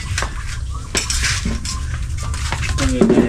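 Dishes being washed by hand at a farm, with pots, plates and cutlery clinking and scraping together in a steady, close clatter alongside running water and kitchen handling noise.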